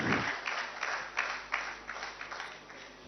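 An indoor crowd at a Punjab government appointment letter ceremony, with Chief Minister Bhagwant Mann as chief guest, claps in steady, dense applause that swells slightly and carries on throughout.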